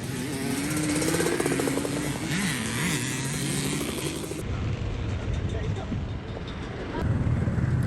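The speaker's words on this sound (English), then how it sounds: "You can hear the motocross guys are already out there practicing, warming up for the morning." Motocross motorcycle engines buzz and rev at a distance during morning practice, rising and falling in pitch, with wind buffeting the microphone and a voice talking over part of it.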